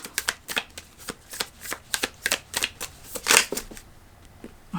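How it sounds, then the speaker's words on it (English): A deck of oracle cards is shuffled near the listener in quick, uneven bursts of crisp riffling flicks, with a denser burst toward the end and no talk. "I'm going to pull one last card from the Energy Archaeology Oracle."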